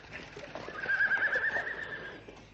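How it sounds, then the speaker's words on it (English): A horse whinnies on a road, a drawn-out, moderately loud neigh rising over a dull background with faint hoof and movement noise, lasting about a second and a half. "Block the road, stop the horse."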